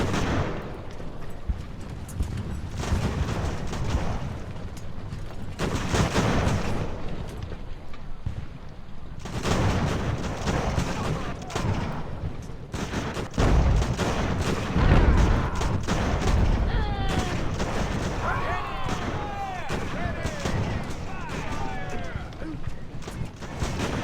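Naval cannon fire in the sailing battle game Ultimate Admiral: Age of Sail, repeated heavy booms and rolling volleys at irregular intervals over a constant battle din, with someone talking over it at times.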